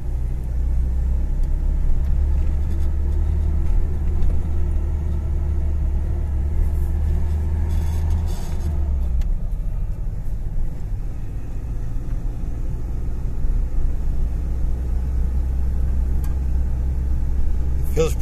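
Ford Ranger pickup truck on a drive, a steady low engine rumble and road noise from inside the cab, with a shift in tone about halfway through as someone talks intermittently.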